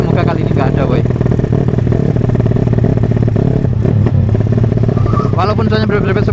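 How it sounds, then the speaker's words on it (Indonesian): A stripped motorcycle with a racing exhaust, no mirrors, body panels or number plate, rides along with a loud, continuous, raspy engine drone close by, with the revs shifting slightly throughout. "Karena motor kita pakai knalpot racing, nggak pakai spion, nggak pakai body, nggak pakai plat nomor."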